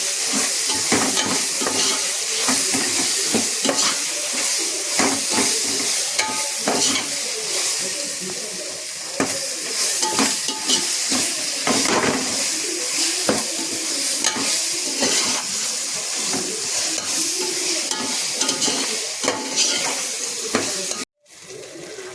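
Ginger garlic paste sautéing in a pan for home-made chicken biryani, a steady loud sizzle and frying hiss with stirring scrapes throughout, cutting out briefly near the end.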